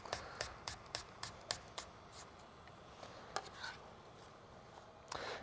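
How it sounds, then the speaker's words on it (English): A chef's knife cuts food into wedges on a cutting board with a run of quiet, evenly spaced thunks, then slower, irregular cuts. The sound is close but soft, with nobody talking over it. "So just to chop it, I slice it up like so, into nice wedges"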